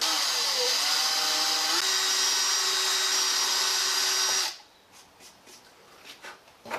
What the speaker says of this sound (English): I need 5/64 inch pilot holes.